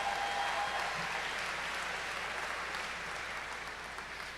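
A small group at a university commencement ceremony claps steadily for a few seconds, the applause thinning slightly toward the end.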